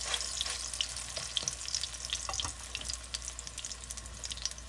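Shrimp chapli kebabs frying on a hot griddle, a bright spitting sizzle full of rapid crackles and pops over a low steady hum, close up with no talk.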